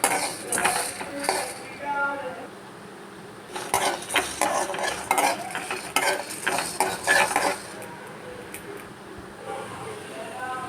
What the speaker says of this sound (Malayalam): കുരുമുളക് പെരിഞ്ചീരകം വറ്റൽമുളക് കറിവേപ്പില പട്ട ഏലക്കായ ഇതെല്ലാം കൂടെ ഒരു രണ്ട് മിനിറ്റ് നേരത്തേക്ക് ഒന്ന് വറുത്തെടുക്കണം